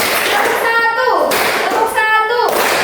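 Children in a classroom play a clapping game, two rhythmic bursts of claps mixed with chanting young voices, close and lively.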